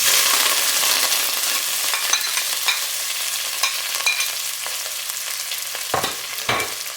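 Onions, coriander and curry leaves sauté in hot oil with mustard seeds and urad dal for a sambar, giving a steady close sizzle with stirring scrapes and a couple of louder clatters near the end.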